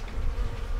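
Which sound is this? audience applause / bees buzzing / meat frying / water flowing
bees buzzing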